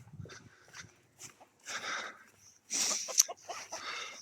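A dog barks in bursts inside a chicken coop while hens cackle and cluck around it, loud and close with brief pauses.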